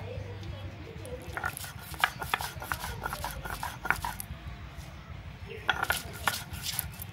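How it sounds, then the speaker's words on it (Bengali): Green chilies, coriander leaves and salt being ground by hand make a rhythmic series of close knocking and scraping strikes, irregularly spaced with a brief lull before a final cluster. "আমি লঙ্কাটা বেটে নিচ্ছি, লঙ্কা ধনে পাতা আর লবণ"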